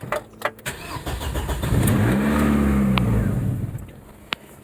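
Ford Escort Mk6 Si with a stainless exhaust cranks and starts after years in storage, then settles into a rough, uneven idle that hunts and dips as if about to stall, close and fairly loud with no talk.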